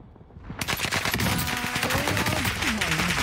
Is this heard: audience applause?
no